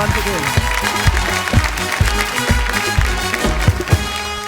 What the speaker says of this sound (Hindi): जोरदार तालियां यश के लिए।